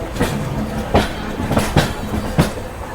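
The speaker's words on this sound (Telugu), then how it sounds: "మన ట్రైన్ రైడ్ స్టార్ట్ అయిపోయింది." A Vistadome train on the Vizag to Araku line runs along the rails with a continuous rumble and irregular rhythmic clacks and thumps from the wheels, heard from inside the moving carriage with no voices.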